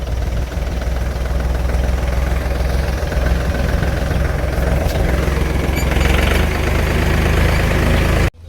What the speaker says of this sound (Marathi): आता ट्रॅक्टर इथंच लावून सांगितलं अर्जुन दादानं